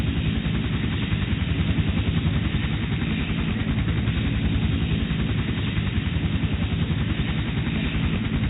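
A Combat Chinook helicopter in the C&C Generals game, Shockwave mod, flies with a steady, loud, dense rotor and engine drone that holds evenly throughout with no talk over it.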